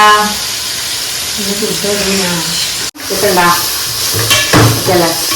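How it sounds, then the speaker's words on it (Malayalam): Onions sautéing in coconut oil in a pan for Malabar biryani masala, a steady broadband sizzle with hiss and steam running throughout, briefly cut off once midway, while a person talks over it. "ഈ മസാലയ്ക്കുള്ള പാൻ വെച്ചിട്ടുണ്ട് അതിന് എന്നിട്ട് വെളിച്ചെണ്ണ ഒഴിച്ചിട്ട് അതിൻ്റെ സവാള ഇട്ടിട്ട് നല്ല നന്നായിട്ട് വഴറ്റിയെടുക്കുക"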